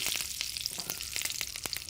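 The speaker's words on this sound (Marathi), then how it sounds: "मोहरी तडतडल्यावर कढीपत्त्याची पाच ते सहा पाने" Mustard seeds and curry leaves crackle and sizzle in hot oil for a coconut chutney tempering, a dense steady frying hiss dotted with sharp popping bursts, close and alone.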